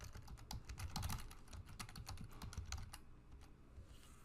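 Rapid typing of an email address on a computer keyboard, a steady stream of close, crisp key clicks with irregular rhythm and no talk.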